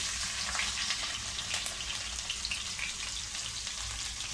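Green chillies fry in hot oil already popping with cumin and mustard seeds, giving a steady close sizzle with scattered crackles and pops throughout, with no voices.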